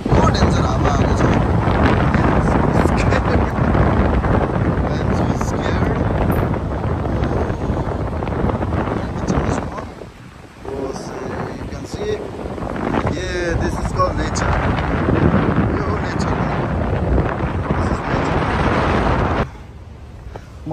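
Strong gusty wind buffets the microphone on a suspension footbridge over a deep gorge on the way to Jomsom and Muktinath in Mustang, a loud continuous roar that dips briefly near the middle and drops off at the end.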